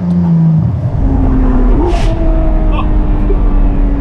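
A Ferrari 599 GTO V12 engine revs up loud and close, then settles to a steady drone, and a brief exclamation cuts in partway through.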